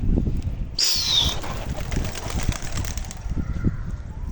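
Pigeons flutter and coo over a steady low outdoor rumble, with a brief sharp whistle of wings near the start.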